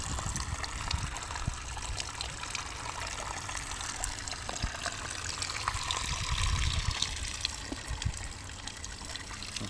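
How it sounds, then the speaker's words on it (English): Water from St Ann's Well fountain in Buxton runs in a steady, continuous trickle and splash, close by and moderately loud, with no talk over it. "But this is St. Anne's Fountain. And this is the well of living waters."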